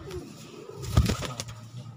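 Domestic pigeons, a prized male among them, coo close by from a rooftop loft, a couple of soft rolling coos rising and fading over about two seconds with faint background noise.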